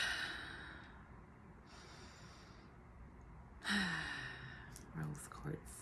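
Deep, slow breathing while holding a rose quartz gemstone close to the heart: a few soft, close inhales and exhales, each lasting about a second, over a quiet, hissy room.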